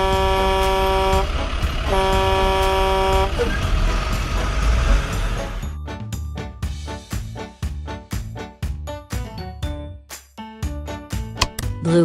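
An orange transport truck in a children's color-learning video game with mini cars sounds repeated bright honks amid busy game music, followed by a fast string of sharp percussive clicks and chimes.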